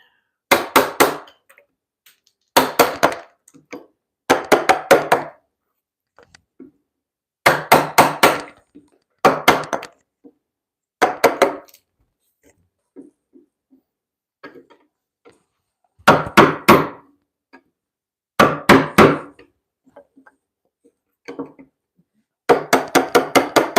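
Bursts of rapid hammer blows on wood during timber-frame mortise joinery, struck in quick clusters of several hits separated by short pauses, loud and close, with no talking.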